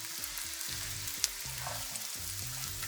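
Chopped green onion sizzles in butter, olive oil, garlic and red pepper flakes in a skillet, a steady crackling fry close by with faint stirring clicks, no talking.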